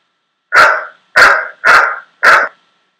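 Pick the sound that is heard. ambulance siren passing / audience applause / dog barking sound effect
dog barking sound effect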